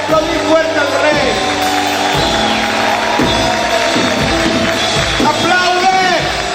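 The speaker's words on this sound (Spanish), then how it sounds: "¿Cuántos pueden gritar y aplaudir fuerte al Rey?" Shouts, whoops and cheers rise from a church congregation amid clapping, loud and close, with excited voices calling out in bursts over a continuous crowd din.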